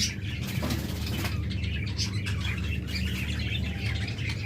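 A caged pair of lovebirds, one rainbow and one albino, chirps and tweets continuously in dense, overlapping high calls, with a steady background hum beneath them.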